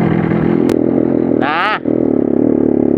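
A Yamaha RX two-stroke motorcycle engine with somewhat low compression idles smoothly and steadily up close, its even hum broken briefly by a short high chirp midway.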